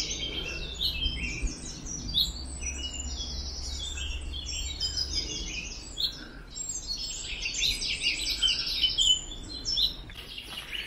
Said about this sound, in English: Stand still for a bit, listen to birds.